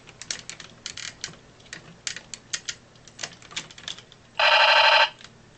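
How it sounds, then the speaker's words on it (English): Light clicks and taps lead into a brief, loud electronic rattling burst near the end, the rapid-fire machine gun sound effect of a 2001 Robots in Disguise Ultra Magnus toy. "Machine gun sound."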